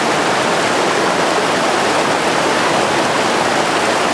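Steady broadband hiss of rain falling under a clear sky beside a river in the Subpolar Urals, a dense even wash with no breaks, loud and close throughout.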